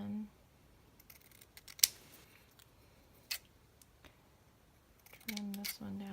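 A few sharp snips of scissors trimming a paper card for a handmade summer popsicle card, scattered clicks and cuts at moderate distance, with a voice speaking briefly near the end.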